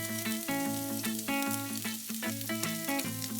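Ginger and garlic paste with sliced chilies sizzles steadily in a hot pan, a continuous dense frying hiss with no voices over it.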